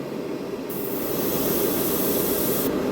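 An airbrush sprays paint onto a Bandai plastic model kit of a Star Blazers 2199 Cosmo Python fighter, giving a steady, loud, continuous hiss that runs the whole time without a break.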